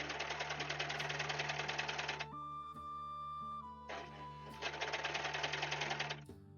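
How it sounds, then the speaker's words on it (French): A sewing machine making strange noises runs in rapid stitching bursts with a steady motor hum and a whining tone through the pauses, then starts stitching again before stopping. "ta machine elle fait des bruits bizarres"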